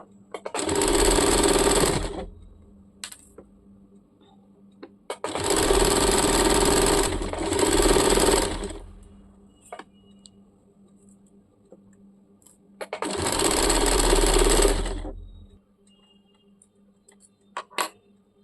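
Sewing machine stitching a churidar in three bursts of steady, loud whirring stitching, each about two to three seconds long, with quiet pauses between them and no talk.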